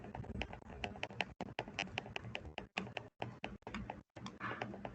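Rapid clicking from a computer mouse, a dense run of sharp taps with a few brief pauses, close and fairly loud with no talk.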